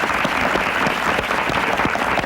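A television studio audience gives a round of applause for a guest senator, a steady, full clapping texture from many hands, loud and unbroken for its short length.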